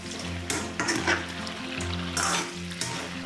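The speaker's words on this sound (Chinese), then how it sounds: "待冰糖加热至起泡泡的时候，我们放入刚才焯过水的羊排。" Blanched lamb ribs hitting bubbling melted rock sugar in a wok, a loud close sizzle with bursts of spattering and stirring scrapes over a low steady hum.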